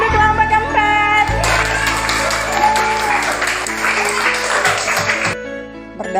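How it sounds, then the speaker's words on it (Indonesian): An audience claps for the fourth group at a school presentation, a sustained wash of applause lasting several seconds over steady tonal background music before dropping away. "tepuk tangan untuk kelompok keempat."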